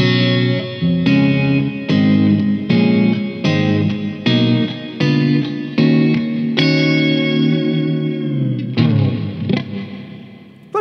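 A clean electric guitar runs through a budget Juggler reverb pedal on its hall setting into a Blackstar amp, playing a loud series of strummed chords that ring out with a long, spacious tail before fading.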